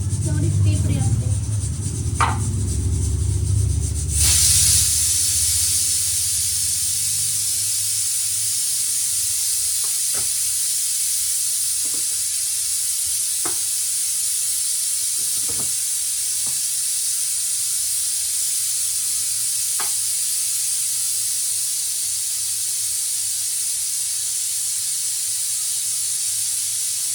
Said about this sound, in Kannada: ಎಷ್ಟೊಂದು ವಿಷಲ್ ಬರುತ್ತದ